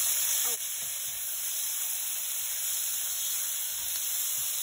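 Aromatics sauté in a pan with a steady, bright sizzle and a faint stirring scrape, continuous and close, during preparation of crab stewed in coconut milk with squash and string beans.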